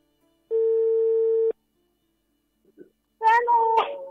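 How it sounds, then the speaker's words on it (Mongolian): An outgoing phone call sounds a single long, steady ringback tone, followed after a pause by a short burst of voices. "За ямартай ч гэсэн утас нь дуудаж байна."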